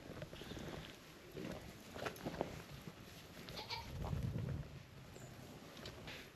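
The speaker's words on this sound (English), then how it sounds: "The goats, of course, have their straw and hay to keep them warm here in the shelter." Goats in a straw-bedded farm shelter on a snowy day, with a few soft bleats and rustling movement over steady background noise, fairly near and moderate in level.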